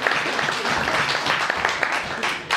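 Wedding guests applaud during the reception speeches, a short burst of dense, fairly close clapping with faint voices underneath.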